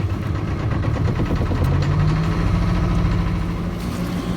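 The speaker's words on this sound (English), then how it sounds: "having got the engine started, it seems to be running fine" A boat's engine idles steadily just after starting, a continuous low rumble with a faint rising tone, running smoothly and alone at close range.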